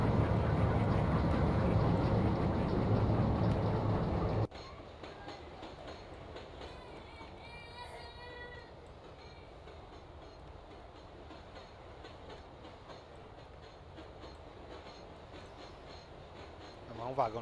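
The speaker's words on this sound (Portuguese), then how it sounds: "Puxar mais três vagões." Freight wagons pulled along the Ferrovia do Aço line in the Open Rails train simulator, a loud rolling rumble that drops suddenly to a quieter steady rail hum with faint clanks and squeals.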